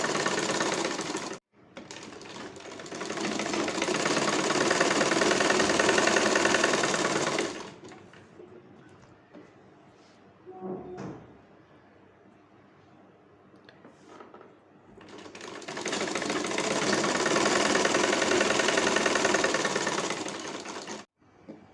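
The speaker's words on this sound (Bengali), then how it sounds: "সোজা করে সেলাইটা দেব" Sewing machine stitching a wide piping strip onto the side seam of a kameez, running in two long steady bursts of several seconds each with a quiet pause between, close and loud with no talk.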